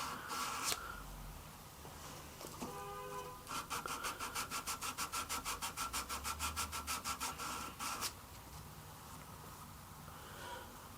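A knife blade is hand sanded sideways with 400 grit abrasive in quick, even back-and-forth strokes, a rapid rhythmic rasping run of about two dozen passes, close and fairly quiet, with no talking.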